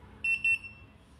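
A handheld hidden spy camera detector gives two short, high electronic beeps in quick succession, then falls quiet over a low background hum.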